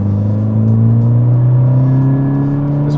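A Volkswagen MK6 GTI accelerates, its engine drone holding loud and steady from inside the cabin, the pitch rising slowly as the car gathers speed, with road rumble underneath.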